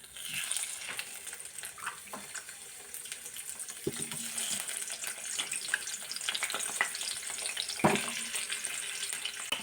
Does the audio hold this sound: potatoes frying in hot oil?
yes